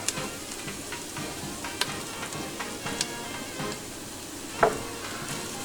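Paprika toasting with onions and garlic in a pan gives a soft, steady sizzle with a few small pops and crackles, fairly quiet and with no talking over it.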